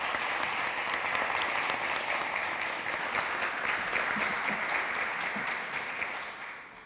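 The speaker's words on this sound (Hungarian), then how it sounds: "Köszöntsük egy nagy tapssal Lukács Istvánt!" Sustained applause from a stand-up comedy audience at a comedy night in Vojvodina, dense steady clapping throughout that tapers slightly near the end, with no voices on top.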